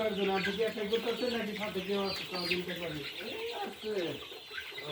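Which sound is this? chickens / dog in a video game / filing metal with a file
chickens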